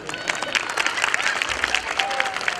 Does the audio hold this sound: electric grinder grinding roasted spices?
no